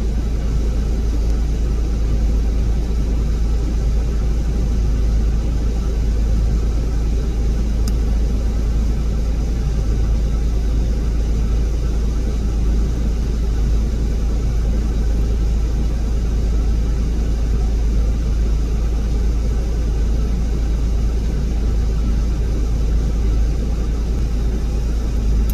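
Steady, loud, low engine rumble from a Caterpillar 140H motor grader running at a construction site, continuous and close with no talk.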